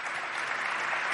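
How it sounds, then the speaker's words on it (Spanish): Strong, sustained applause from a large audience at a public television presentation event, a dense, even roar of clapping that holds steady throughout without voices. "Le vamos a dar un fuerte aplauso para todos estos"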